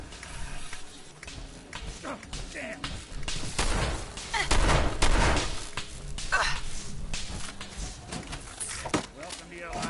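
Shotgun blasts in Fallout 4 land as a few heavy thuds among scattered game noise, with someone talking over much of the action.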